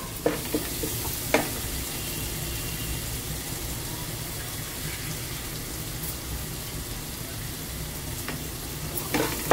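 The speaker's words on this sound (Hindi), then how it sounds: "पहले इस मसाले को हम भून लेते हैं।" Masala spices fry in hot oil for achari bhindi, giving a steady close sizzle with occasional stirring scrapes and clinks of a spoon against the pan.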